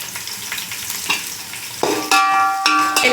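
Green chilies drop into hot oil with golden-fried onions, and a soft background sizzle turns into a louder, denser crackling frying close by, with a couple of sharp stirring scrapes.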